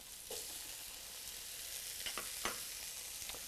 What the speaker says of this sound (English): So I'm going to saute the apples.